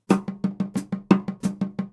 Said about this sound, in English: Great, now what if we play it as 16th notes?